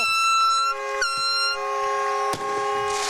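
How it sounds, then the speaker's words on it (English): A harmonic air horn blares in several short blasts, loud and close, at a night high school football event, with sharp clicks and crowd noise between the blasts. "I believe the humidity got to my air horn, though."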